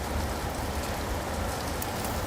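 Rain falls steadily and splashes on surfaces outdoors at a lakeside in springtime, a dense continuous hiss with no voices.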